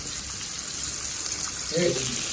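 A steady, dense hiss of onions frying in a pan for mutton curry, continuous and close, with a brief murmur of a voice near the end.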